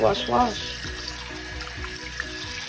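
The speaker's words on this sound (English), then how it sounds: "I prefer washing my rice with cold water" Water runs steadily from a cold tap as rice is swished and rinsed in it, with a brief voice near the start.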